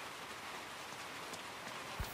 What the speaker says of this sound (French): Ah, le bruit de la pluie qui revient, ça fait du bien.